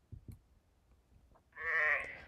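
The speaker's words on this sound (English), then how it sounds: "I see a black sheep looking at me" A sheep bleats once, near and fairly loud, a short wavering call after a few soft knocks and thumps during a children's picture-book reading.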